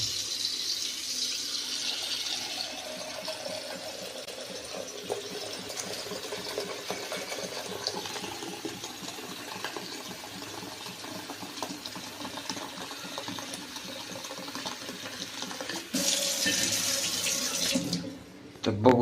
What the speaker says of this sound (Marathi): तर आता पाणी भरू याच्यात